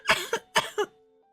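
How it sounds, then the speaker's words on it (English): Four short, dry coughs in two quick pairs from one person amid dust in a kitchen, fairly close and moderately loud, then silence with a faint lingering tone. "and I end up coughing"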